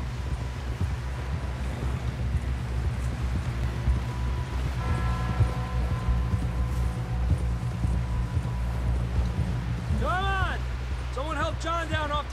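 Horse galloping in Red Dead Redemption 2, hooves drumming steadily beneath continuous talking and wind, with the hoofbeats largely buried under the voices.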